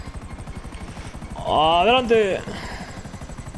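Helicopter in GTA V with rapid, rhythmic rotor chopping throughout, while someone shouts briefly over it and engine noise swells in the middle.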